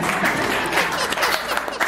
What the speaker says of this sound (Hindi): आप लोग तो तालियां बहुत अच्छी बजा रहे हैं